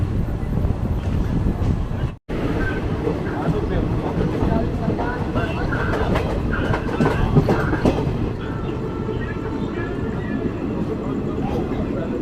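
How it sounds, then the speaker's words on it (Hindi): Ballia Sealdah Express running into Asansol Junction: a loud, steady rumble of the moving train with rhythmic wheel clatter over rail joints, continuous except for a brief dropout, with some voices faintly mixed in. "हमारी ट्रेन पहुंच गई है दोस्तों आसनसोल"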